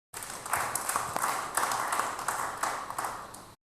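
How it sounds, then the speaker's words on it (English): Applause from a church congregation, a steady patter of many hands clapping at moderate distance, fairly even throughout before stopping abruptly. "Give her a round of applause."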